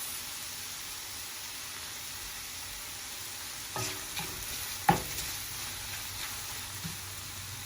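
Wild ramps and Pioppino mushrooms are stirred in a pan, giving a faint, steady sizzle with a few soft utensil scrapes and knocks partway through, no talking.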